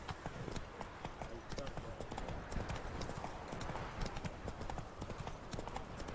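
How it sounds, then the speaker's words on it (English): Horse hooves clip-clop rapidly in a video game as the horse trots, a dense, steady rhythm of close hoofbeats with game ambience behind it. "Horsey, get Roach"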